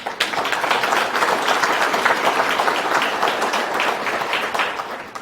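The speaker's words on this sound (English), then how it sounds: "So give yourselves a round of applause" Audience at a State of the City address in North Port clapping steadily, a dense, sustained wash of applause from a large crowd throughout.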